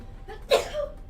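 A single sharp sneeze bursts out midway, close and moderately loud, briefly preceded by a small intake of breath in a quiet room.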